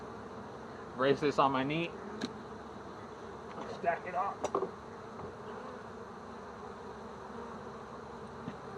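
Low, steady buzzing of many honey bees close by around a hive box in early spring, with a person speaking briefly over it.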